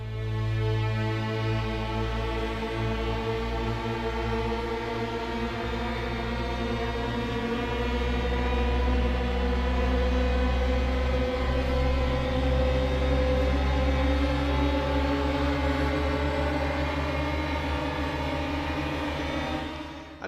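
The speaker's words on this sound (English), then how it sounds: "you get a standard riser" A standard synthesized riser from the Occult Audio Rise & Fall sound library, a dense buzzing tone rich in harmonics that holds for about twenty seconds before cutting off.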